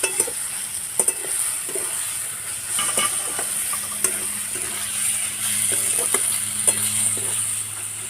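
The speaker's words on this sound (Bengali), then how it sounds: "আস্তে নেড়ে নেড়ে বাকিটা নরম করে নেব" Morola fish chachchari cooking in a pan, stirred slowly with a utensil while it sizzles. Soft scrapes and taps come at irregular intervals over a steady, low frying hiss.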